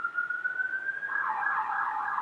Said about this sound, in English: little sirens in the background here